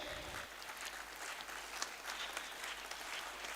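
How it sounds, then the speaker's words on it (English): Sustained audience applause from a crowd at an event honoring a guest who travelled from Tamil Nadu to New Delhi, steady dense clapping throughout after a brief start. "Can we have more rounds of applause for our people?"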